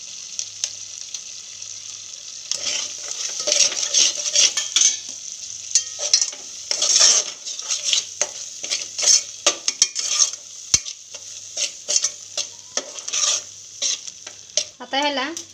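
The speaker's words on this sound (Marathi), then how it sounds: "आता ह्याला तेल सुटेपर्यंत मसाले परतून घेऊ आपण।" A spice paste of ground coconut, onion and sesame with homemade masala fries and sizzles steadily in oil for mutton curry, while a spoon scrapes and stirs it in frequent close, clattering strokes.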